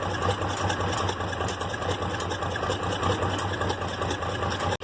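Farm tractor engine idling at roughly 550 to 600 RPM after sitting overnight, a steady, close-up rhythmic chugging with even low pulses and no talk.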